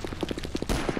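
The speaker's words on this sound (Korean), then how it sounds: "방금 총소리 들려" Rapid automatic gunfire from the online shooter game Sudden Attack, a quick string of evenly spaced shots at moderate loudness in a single short burst.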